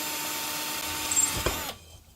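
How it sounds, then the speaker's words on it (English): A power drill grinds steadily through a glass bottle, its whine holding close and loud before a brief change in pitch as it breaks through, then stopping abruptly, with no talking. "you can hear the sound change as the drill's about to go all the way through the glass"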